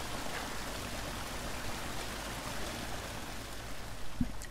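Water pouring in during Resident Evil 0, a steady broadband rushing and splashing like a stream, constant in level with one brief knock near the end.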